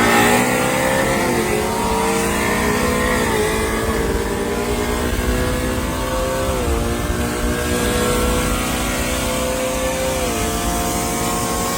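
A Chevrolet Camaro SS at full throttle in a street race, its engine climbing through several gear changes with repeated rising revs and brief dips at each shift, loud and close throughout with no talk.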